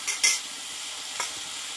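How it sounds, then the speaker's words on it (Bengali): Water poured into soft sautéed pumpkin in a hot pan, a steady hiss with two quick sizzling bursts at the start and another flare a moment later. "এবার এখানে অল্প করে আমি জল দিয়ে দেবো"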